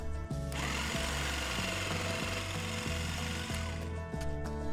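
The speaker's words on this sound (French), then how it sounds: "on va pouvoir attaquer la scie sauteuse" Jigsaw cutting through wood: a loud, continuous buzzing saw with a rapid reciprocating rattle and rough rasping bite, steady throughout and close, with no voices.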